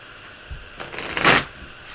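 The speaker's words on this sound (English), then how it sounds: "Okay, so I'm going to shuffle first." A deck of tarot cards being shuffled by hand, a single brisk riffle of rapid papery flutter that swells and ends within about a second, heard close with no talking.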